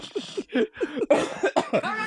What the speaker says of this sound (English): That's how smoking cough, not Corona.